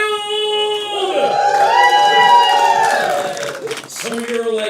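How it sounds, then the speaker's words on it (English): Comedy club audience at a live stand-up event cheering, whooping and yelling loudly as a show opens, a sustained wall of shouts and high whoops that swells and then starts to fade. "the crowd goes"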